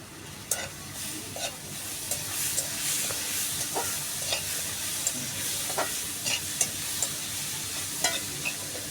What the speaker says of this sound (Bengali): ডালের মধ্যে দিয়ে দিব একটু হলুদের গুঁড়া, লবণ দিয়ে ডালটা নাড়াচাড়া করে নিব।